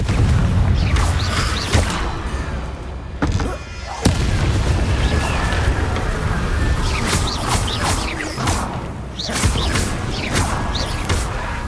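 Confringo fire blasts in Hogwarts Legacy, a run of loud booming bursts over rumbling game noise, with sharp explosive hits at intervals.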